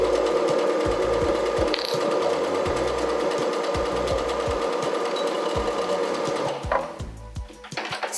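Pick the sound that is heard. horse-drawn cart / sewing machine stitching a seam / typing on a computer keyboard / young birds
sewing machine stitching a seam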